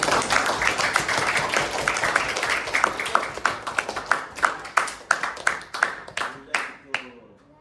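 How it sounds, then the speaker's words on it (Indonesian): A classroom of students claps together after group presentations, starting as dense applause and thinning into separate, slowing claps before fading out. "Beri tepuk tangan untuk kita."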